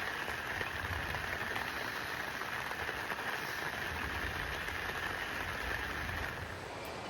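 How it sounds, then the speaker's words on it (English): Steady rain falls at a campground by the Rubicon River, a dense, even hiss that holds constant throughout, with a low rumble underneath and no voices. "lying in bed listening to the rain, which again, you'll be able to hear"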